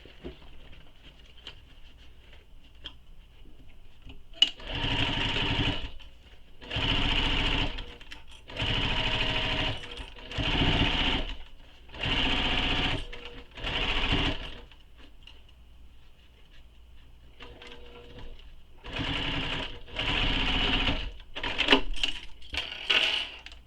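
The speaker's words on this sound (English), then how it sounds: "And now we're going to sew this again, starting at this corner and stopping at that corner." A sewing machine stitching a quiver sling, running in about ten rapid whirring bursts of a few seconds each, with quiet pauses and handling clicks between them, close and alone.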